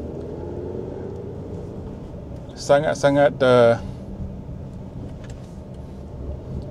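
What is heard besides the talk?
Jetour Dashing 1.5 engine working in sport mode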